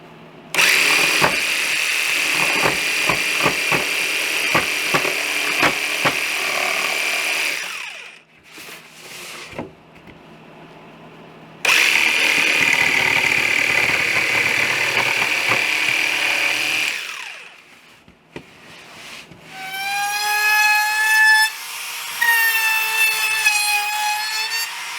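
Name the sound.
jigsaw cutting wood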